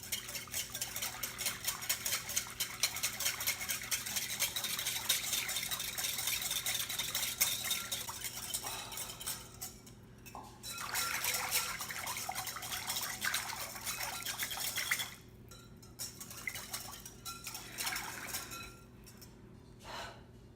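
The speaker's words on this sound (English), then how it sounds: "That was a lot of whisking." An onion vinaigrette being whisked hard in a bowl resting on a non-stick pad, a rapid wet clicking and swishing that runs steadily for long stretches with a couple of brief pauses.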